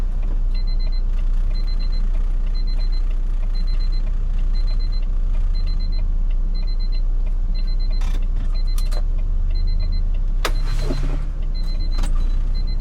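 A repeating electronic alarm beeps in short regular bursts inside a truck cab, over a steady low engine rumble, with a few brief louder chirps and clicks near the end.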